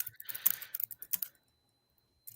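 Computer keyboard and mouse being clicked in quick, close, irregular bursts of taps, then falling silent before a final short flurry.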